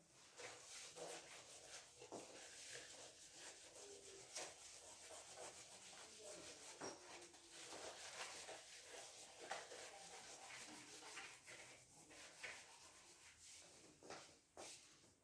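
Continuous dry rubbing and scrubbing of a board eraser wiping out writing in a classroom, steady and fairly close, running for the whole stretch with no talk over it.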